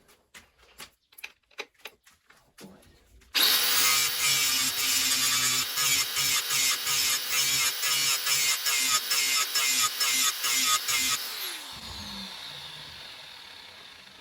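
A few scattered clicks, then a loud harsh grinding whir starts abruptly and holds steady with pulsing scrapes for several seconds before winding down.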